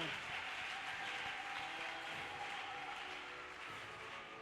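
A congregation at a French and Swahili church service applauds the Lord, producing steady, dense clapping that fills the whole moment at an even level with faint crowd voices beneath.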